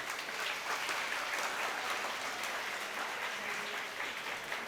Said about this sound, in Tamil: நல்லா கைத்தட்டினீங்கன்னா சீக்கிரம் முடிச்சிருவேன்.